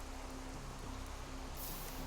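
Steady rain in a Minecraft survival world with the NTM mod makes an even, soft hiss with no distinct drops. There is no speech.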